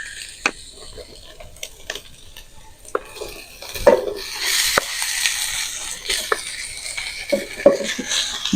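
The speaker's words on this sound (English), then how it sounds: "So we're going to add in now our rice." Rice is added and fried on a hibachi griddle, heard as a soft hiss with scattered clinks and scrapes of a metal spatula tapping the hot surface, close by and uneven in rhythm, growing a little busier toward the end.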